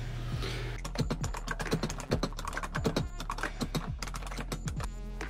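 Rapid typing rattles on a computer keyboard, a close, dense run of crisp key clicks and thumps going on without pause and without talk.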